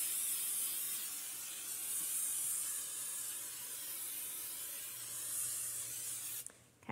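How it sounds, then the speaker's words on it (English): Pump-action nonstick cooking spray hisses steadily onto a pan over a sink, a continuous close spray lasting several seconds before cutting off near the end. "you just want to really liberally spray down your pan"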